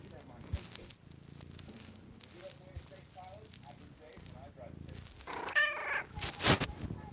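A pet cat meows in several short calls at moderate distance, with background noise and a few louder bumps near the end, while a person talks nearby.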